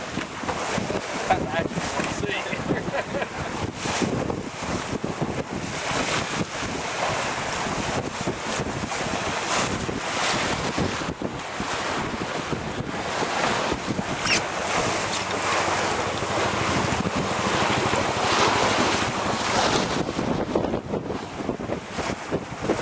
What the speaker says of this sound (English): Got some good breeze now.